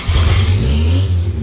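An engine in a workshop catches and runs loud and close, a steady low droning hum lasting just over a second with no talking.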